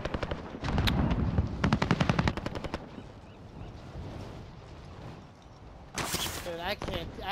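Rapid automatic gunfire bursts from the video game Warzone crackle loudly in close succession, then fade under a low battle din before voices break in near the end.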